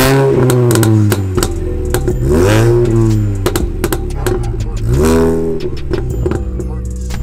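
A Mini John Cooper Works GP engine fires up and is blipped repeatedly, several sharp revs rising and falling in pitch over a loud idle, close by, with clattering mechanical noise between the throttle bursts.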